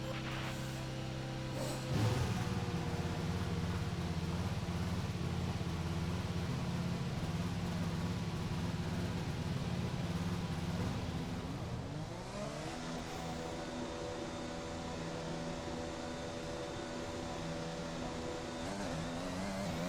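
A race car in a Formula 1 video game pulls out of the garage, a steady engine drone and whir that shifts pitch as it revs up and moves off, continuous and moderately quiet.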